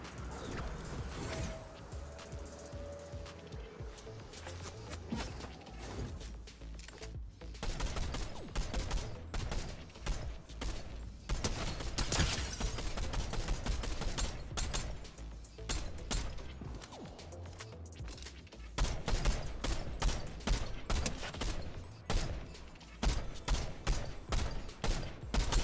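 Rapid, dense Fortnite gunfire rattles in sustained bursts for over twenty seconds, loud and close, with short lulls between volleys and a steady game-world background underneath.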